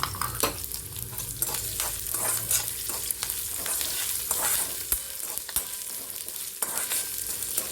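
Chillies, ginger and peanuts frying in a pan for mango rice, a continuous crackling sizzle broken by frequent scraping stirs, close and clear with no voices.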